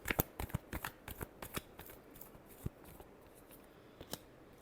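Tarot cards are shuffled close by in a quick series of crisp riffling snaps and flicks, loudest at the start and tapering into sparse soft taps.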